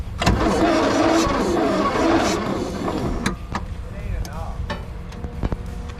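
A 25-year-old VW diesel engine with two cracked injectors cranking over, a loud steady whirring starter drone for about two seconds, then quieter mechanical clicks and knocks.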